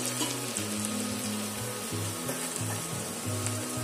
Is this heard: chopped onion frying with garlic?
yes